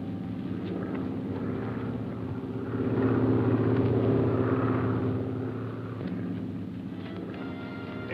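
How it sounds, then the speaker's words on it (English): A small propeller plane circles to land, its engine drone a steady low rumble that swells louder midway through, then eases back, heard alone without speech. "A plane is circling to land."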